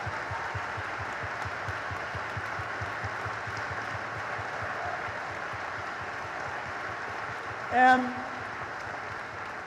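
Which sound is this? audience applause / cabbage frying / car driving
audience applause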